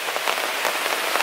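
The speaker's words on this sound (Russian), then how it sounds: "Начался дождь." Rain falling in the Maldives, a dense, even patter of drops hitting surfaces nearby, steady and fairly loud with no voices.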